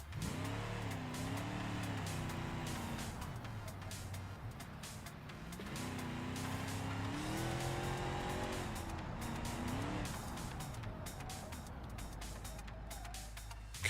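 A car in BeamNG.Drive is pushed hard through a turn, the engine revving and rising and falling while tires squeal through a handbrake-turn attempt, steady and fairly close with no talking.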